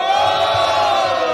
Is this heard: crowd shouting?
yes